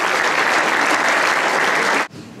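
Loud, steady applause from an audience at a pastry award ceremony, sustained for about two seconds before cutting off abruptly.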